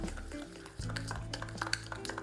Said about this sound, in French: Je vais bien mélanger ensemble mon sucre et ma pectine.